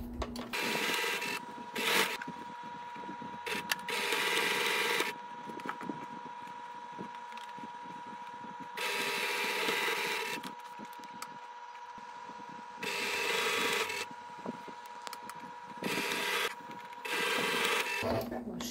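Sewing machine stitching an English embroidery trim onto a cotton dish towel, running in several bursts of steady mechanical whirring separated by pauses, close and moderately loud.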